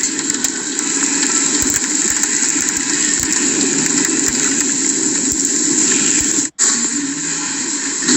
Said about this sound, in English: That mud puddle going under my truck.